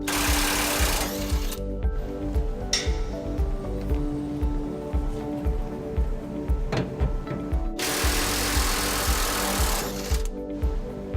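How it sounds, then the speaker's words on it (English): An electric impact wrench fitted with a 21mm socket rattles loudly while removing bolts from a 2006 Chevrolet Silverado 1500 ahead of a trailer hitch install, with two long hammering bursts around steady close mechanical whirring. "We got a 21mm socket on our electric impact. We'll be going and pulling these out"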